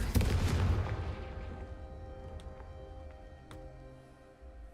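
A Confringo blasting spell in a wizarding video game, a single loud booming explosion up close that decays into a long rumbling tail, followed by a few faint clicks and ticks.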